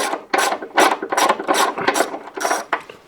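A ratchet wrench loosens a 10mm nut on the heating element of a built-in integrated Bosch washing machine, giving a close, loud run of rhythmic clicking bursts in quick repeated strokes.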